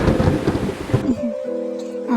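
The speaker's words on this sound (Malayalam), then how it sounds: "ആകാശത്ത് നിന്ന് തുള്ളിയായി പെയ്തൊഴിയുന്ന ഈ മഴയെ നോക്കിയിരിക്കാൻ മനസ്സിന് വല്ലാത്തൊരു ആശ്വാസമായിരിക്കും അല്ലേ?" Heavy rain pours with a rumble of thunder, loud and close, then gives way after about a second to soft, sustained musical tones.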